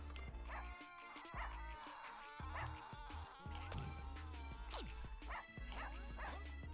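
Cartoonish dog yips and barks from the Russian Subway Dogs video game pop out repeatedly over busy game music and effects, loud and close, with no one talking.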